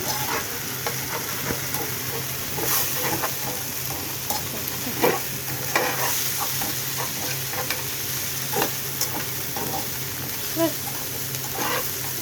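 An egg salted and frying in a pan with foraged greens, a steady close sizzle and crackle running throughout with occasional spatula scrapes and taps.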